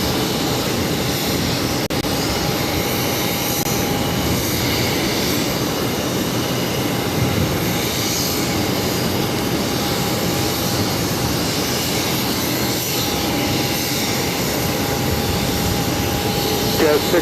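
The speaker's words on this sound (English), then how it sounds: "Virgin Atlantic A330 Neo now about to cross over to right, head to the international terminal." A Virgin Atlantic Airbus A330neo taxis across a runway toward the international terminal at Boston Logan airport. Its jet engines make a steady, continuous broadband roar at moderate distance throughout.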